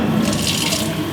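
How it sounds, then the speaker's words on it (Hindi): Water runs steadily from a tap at a drinking spot, a continuous close splashing flow with no voices. "ये पानी पीने की जगह बनाई गई है।"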